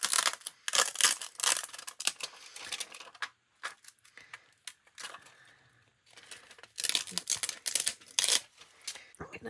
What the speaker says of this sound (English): I'm going to try and tear my mica